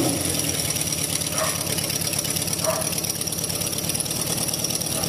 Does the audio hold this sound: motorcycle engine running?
yes